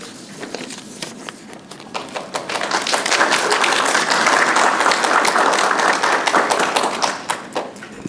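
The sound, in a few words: audience clapping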